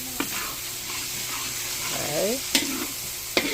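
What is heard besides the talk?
garlic sautéing in a pan for ginisang munggo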